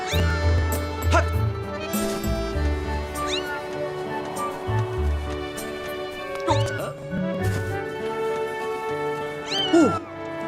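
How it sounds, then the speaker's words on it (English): Repeated cat meows from a creature in the video game Zelda: Skyward Sword, several bright rising and falling cries spread across the stretch, heard under steady game background noise. "this is a cute little cat thing. See, staring into the cat, raccoon cat's eyes."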